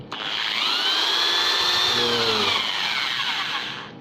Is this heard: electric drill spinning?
yes